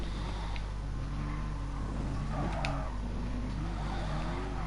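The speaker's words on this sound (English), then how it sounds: "787B. One of the best sounding cars of all time, that is." A Mazda 787B race car's engine in GT Sport, a steady sustained drone with rising and falling pitch, continuous and fairly loud, heard under commentator talk.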